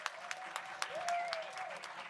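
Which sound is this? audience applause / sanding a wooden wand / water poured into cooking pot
audience applause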